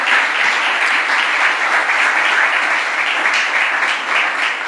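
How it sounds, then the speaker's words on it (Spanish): A church congregation at a Spanish-language service applauds loudly and steadily, a dense continuous wash of clapping from many hands filling the room without letup. "Denle un fuerte aplauso al Señor"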